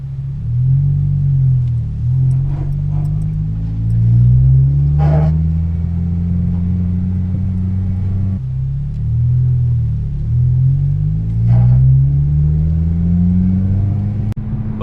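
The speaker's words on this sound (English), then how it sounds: "I want you guys to hear how bad it's gonna rub right now." A car whose tire scrapes against the fender while turning, with a loud, close rubbing groan that repeatedly rises and falls in two similar cycles over a steady low engine and road rumble, with no talking.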